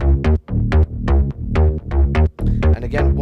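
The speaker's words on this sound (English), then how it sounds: "Okay, so altogether the bass sounds like this." Heavily processed synth bass from an electronic remix, a pulsing, harmonically rich line of repeated punchy notes with short gaps, loud and alone.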